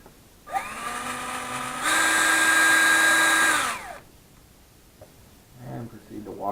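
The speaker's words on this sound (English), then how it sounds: "you don't know how to drill a hole" A power drill drilling a hole in a homemade turbo log manifold whines steadily for a few seconds, its pitch stepping up once before spinning down, followed by brief low voices.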